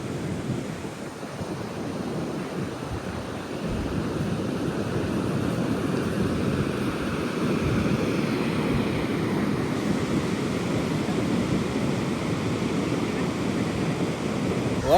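Ocean waves surge and break continuously onto Goa beach, a steady broadband roar with rolling swells and wind buffeting the microphone, close and loud throughout with no talking.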